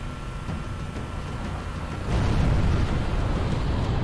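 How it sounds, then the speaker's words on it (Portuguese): Explosion in the video game Halo 3: a sustained, rumbling roar of low noise that swells into a louder, heavier blast partway through and keeps rolling, with no talk over it. "eu tive que apreciar a explosão ali"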